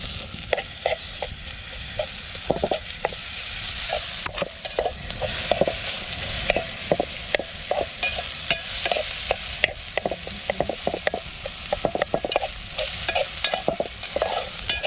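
Onions and tomatoes fry in a pan on a steady sizzle, with a spoon scraping and stirring in frequent irregular strokes close by, loud and continuous throughout with no talking.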